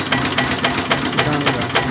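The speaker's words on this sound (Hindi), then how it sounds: "बाकी आप देख ही रहे हैं ट्रैक्टर काम में चल रहा है।" A 1993 Eicher tractor engine running steadily at work, with a continuous close mechanical chug and faint rhythmic knocking throughout.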